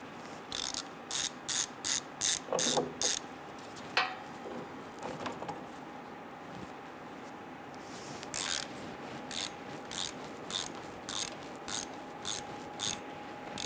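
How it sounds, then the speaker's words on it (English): Ratchet wrench clicking in quick bursts while snugging down a bolt on the rear ABS wheel speed sensor of a 2005-2010 Chrysler 300, close and crisp, with pauses between runs of clicks. "And let's snug down this bolt."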